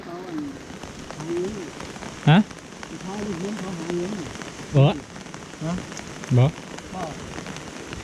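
Steady rain falls on surfaces around a rural home during the rainy season, a constant hiss of drops beneath people talking nearby.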